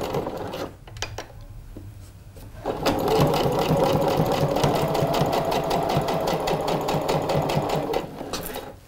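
A sewing machine runs backstitches along a drawn line on fabric, starting with a few short stop-start bursts, then settling into a steady, close mechanical whirring chatter of rapid needle strokes that continues until it halts.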